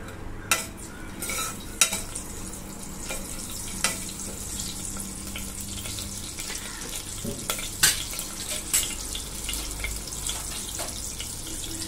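Whole spices including green cardamom, black cardamom, cinnamon and asafoetida fry in hot oil and ghee for a Kolhapuri tambda rassa, a steady close crackle and sizzle with occasional stirring clicks and scrapes.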